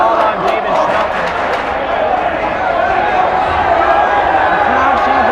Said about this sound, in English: The crowd chanting this for the football